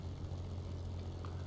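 A Spitfire propeller fighter's engine in War Thunder drones steadily at a low, even pitch, a continuous hum with no break across the whole stretch.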